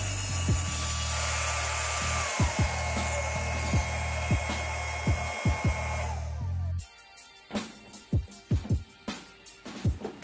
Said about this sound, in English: So I'm going to add a piece of tape before I run this through the table saw.